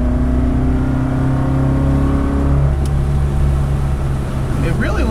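A lowered, performance-oriented resto-mod BMW 2002 drives with its engine revving steadily up high, a loud, continuous droning hum that shifts pitch partway through and carries through the whole stretch from inside the car.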